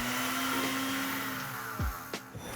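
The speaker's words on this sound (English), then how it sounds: "We're gonna puree this, so we're gonna pop it in our blender or food processor" Blender running steadily as it purees cooked butternut squash in a kitchen, a continuous loud whirring motor hum with a brief dip and thump near the end, no voices.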